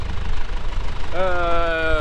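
A tractor engine idles in a windy farm field, its low rumble buffeted by wind, while a steady tonal hum rises near the end.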